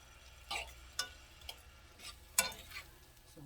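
Shrimp with their marinade frying in a pan, a faint steady sizzle broken by several sharp spatters and clicks as the pieces settle and are stirred.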